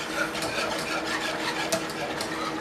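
Spoon scraping steadily around a pot of homemade custard thickening on the stove for banana pudding, a soft continuous rubbing and stirring close by with no talk.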